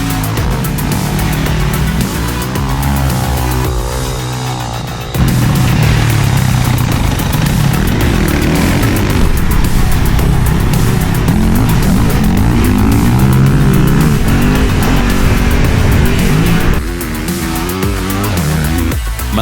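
Motocross motorcycles race through mud, engines screaming at high revs in a loud continuous drone with rising and falling pitch as bikes pass and shift, several machines overlapping throughout.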